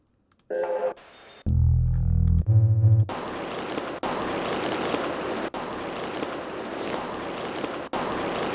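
A drone sample from a sound library for a modern techno track: after a few brief synth tones, a dense, steady, rumbling noise texture swells in and holds, broken by a couple of short dips.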